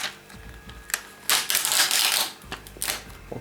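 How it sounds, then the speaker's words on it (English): Protective plastic film peeled off the back of a new Samsung Galaxy Tab 3 10.1 tablet: close crinkling and crackling, with a loud sustained tearing rasp in the middle and scattered small ticks around it. "So let's peel back this plastic at the back."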